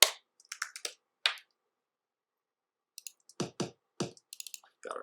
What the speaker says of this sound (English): Got our hats.